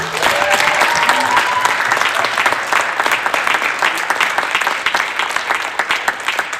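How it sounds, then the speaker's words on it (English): Sustained audience applause for a spoken word poet at a school assembly, a dense steady wash of many hands clapping from start to finish with faint crowd murmur beneath. "We'll give her one more round of applause."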